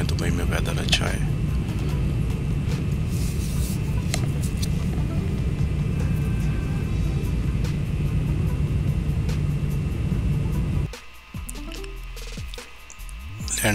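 Steady, loud, low cabin rumble fills an Emirates airliner landing in Dubai, continuing for most of the clip before dropping off abruptly into quieter interior noise, with a voice talking over it.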